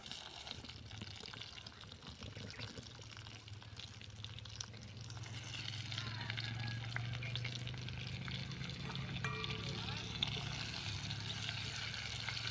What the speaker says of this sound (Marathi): तर वांगी तेलावरती आपण परतून घेऊया.